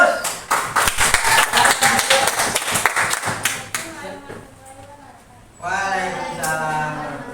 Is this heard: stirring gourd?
no